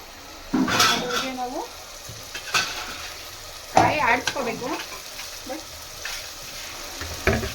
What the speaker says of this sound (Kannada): ಫ್ರೈ ಆಗಬೇಕು ಫ್ರೈ ಆಗಬೇಕು ಫ್ರೈ ಆಗತಾನೆ ಇರಲಿ